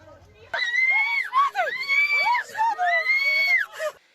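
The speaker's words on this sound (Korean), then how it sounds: "이 모습을 지켜보는 차량 안에는 여성들과 아이들의 비명으로 가득합니다" Women and children scream from inside a parked car while a group of men and women scuffle in a parking lot; several loud, wavering, high-pitched cries overlap in close succession throughout.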